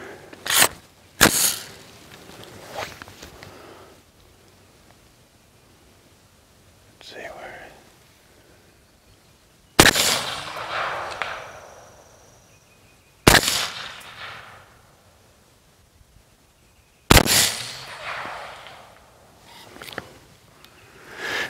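Suppressed 300 BLK rifle shots fired outdoors with a Gas Control 30 cal can, several sharp loud reports spaced a few seconds apart, with quiet hushed talk between them.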